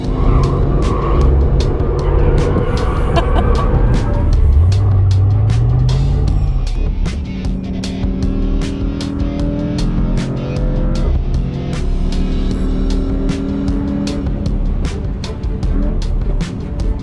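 A 2021 Mercedes-AMG E63S drifting on a track in drift mode: a loud, continuous engine roar with rising and falling pitch and squealing tyres, heard from inside the car.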